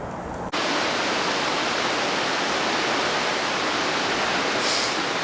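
Steady, loud rushing of the River Sheaf flowing through a concrete culvert, a dense unbroken roar of water that begins abruptly after a short pause and carries on alone.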